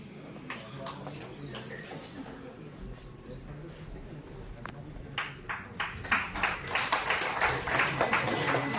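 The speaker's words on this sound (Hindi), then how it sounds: "जोरदार तालियों से स्वागत" Audience applause at a Bharat Bharati national conference in Ekta Nagar welcomes a guest, starting as a few scattered claps over hall noise and swelling into steady, dense clapping.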